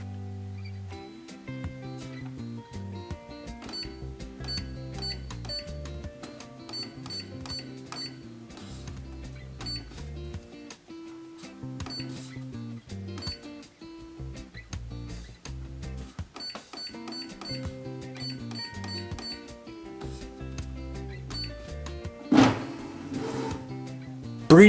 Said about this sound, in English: Printer will now take about a minute to get ready, and during this time it will make some noise